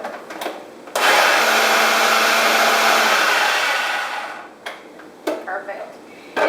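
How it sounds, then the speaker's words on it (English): A food processor purees drained sweet corn kernels in one loud, steady whir lasting about three and a half seconds, followed by a few light clunks and handling noises. "We're going to puree this so it makes a really nice sweet corn puree in a food processor."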